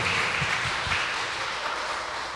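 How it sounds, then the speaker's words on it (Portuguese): A church congregation applauds during a worship service, a steady, full wash of clapping from many hands that holds evenly and tapers slightly at the end. "Pode aplaudir ao Senhor."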